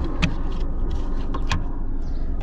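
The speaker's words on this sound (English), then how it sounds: "And the car is still running." Car engine idling steadily after its battery connector has been pulled off, a low continuous running hum with a few sharp clicks and knocks over it, fairly close.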